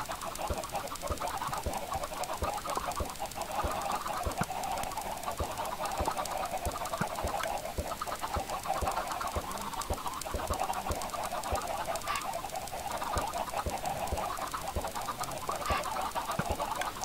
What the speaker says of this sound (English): I assume it's the chickens walking back and forth